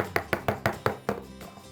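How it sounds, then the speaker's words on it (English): Espresso portafilter knocked while making a latte on a Rancilio Silvia Pro, about six quick hollow thuds in a steady rhythm, close and fairly loud, followed by a fainter final tap. "Couple knocks."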